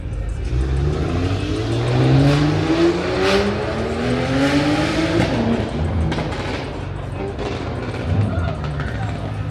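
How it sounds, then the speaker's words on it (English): A stock S55-engined car revs hard in repeated rising two-step launch control bursts, loud and close, with people talking over the roar. "this 2-step sounded nasty."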